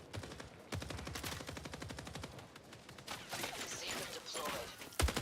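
Dense rapid gunfire from a PvPvE shooter video game, with repeated bursts of automatic fire and some heavier blasts. The volley runs steadily for about five seconds and ends on a louder shot.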